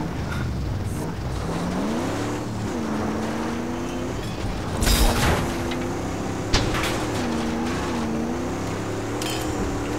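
Vehicle engines in the Mad Max video game drone steadily and loudly throughout, their pitch rising and falling as they rev, with a couple of sharp bangs and bursts in the middle.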